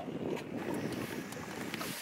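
Steady wind blowing across a microphone on a fishing boat while tight-lining for crappie, a continuous low rumbling gust that fills the whole stretch without letting up.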